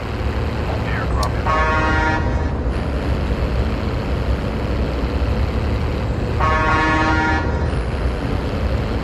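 Two separate truck horn honks in Call of Duty Mobile, each lasting about a second, sound several seconds apart over a constant engine drone.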